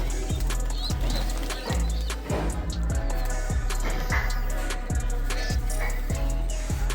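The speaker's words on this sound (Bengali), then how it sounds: "সবচাইতে কঠিন জিনিস যে এখানে কালা কবুতরের সাথে সাদা কবুতরের জোড়া আছে।" Black and white pet pigeons, kept alongside their chicks, coo and flap their wings in a steady, repeating rhythm close by over a constant low background hum.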